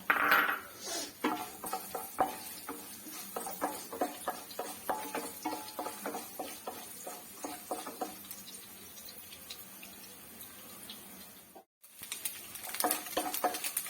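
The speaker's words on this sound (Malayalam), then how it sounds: "വെളിച്ചെണ്ണ ചൂടായി, തേങ്ങാക്കൊത്തിടാം" Coconut pieces fry in hot coconut oil with a steady run of sharp crackling pops and light utensil clatter, cutting out briefly near the end before resuming.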